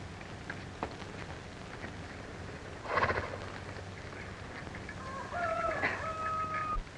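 A horse in a 1936 Western film gives a high whinny toward the end, preceded by faint hoof and rustling noises in a quiet outdoor scene with no talk.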